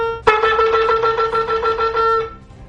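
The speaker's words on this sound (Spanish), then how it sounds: "Terúa son 9 notas pequeñas en rápida sucesión, que simbolizan un sonido de alarma." A shofar sounds the teruah: after a sharp attack, a string of about nine quick, pulsing staccato horn notes runs in rapid succession, loud and close, then cuts off into quiet.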